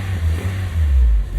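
A Honda Jazz automatic with a no-drive gearbox fault revs briefly in park, a low engine drone rising and swelling, close and steady for about a second.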